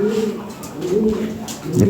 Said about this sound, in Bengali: এখানে এক পেয়ার কবুতর আছে